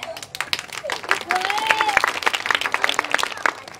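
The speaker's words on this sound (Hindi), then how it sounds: "ताली बजाओ" A crowd claps and applauds steadily, the dense patter of many hands mixed with scattered whistles and some voices in the background.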